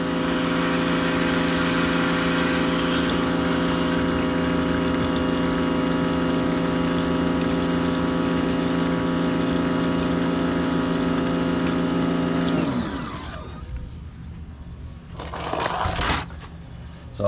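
A pressure washer works to unclog a kitchen sink, its motor humming loud and steady for a long stretch before winding down abruptly, followed by quieter water splashing and a brief burst.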